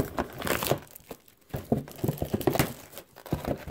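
Crinkly plastic wrapper on a 2018 Topps Gypsy Queen megabox being torn open, close and loud in uneven bursts of crackling and ripping with short pauses between pulls.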